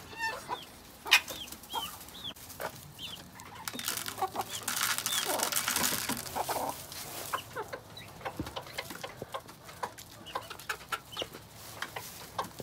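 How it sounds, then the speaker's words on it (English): Small bantam chickens cluck and chatter in a homestead flock, with soft repeated clucks and a louder stretch of noisy fowl calls in the middle, moderately close. "here's our little bantams"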